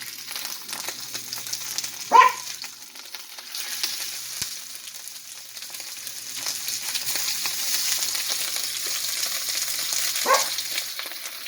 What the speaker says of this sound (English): I'm cooking a little shrimp first.